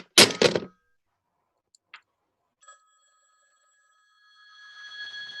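In a radio play, a couple of quick knocks, a brief pause, then a steady electronic telephone ring sounds and keeps going, growing slightly louder toward the end.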